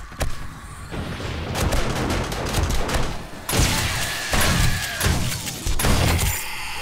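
An automated turret in 7 Days to Die with the Darkness Falls mod fires bursts of shots and thuds in uneven clusters, loud and close, with no talk over it.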